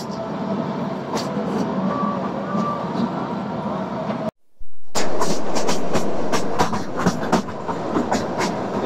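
A Kalka-Shimla Vista Dome toy train runs loudly through a long tunnel, its rumble and wheel clatter continuous, with a brief drop out midway before the noise returns louder and echoing.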